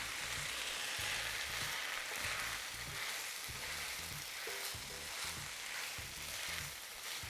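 Steak dirty rice frying and being stirred in a hot pan, giving a steady close sizzle with rhythmic scraping and mixing sounds throughout, no talking.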